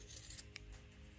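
Scissors trimming paper gusset pieces for a craft book pocket: a couple of faint, quick snips, close and quiet over a soft background hush.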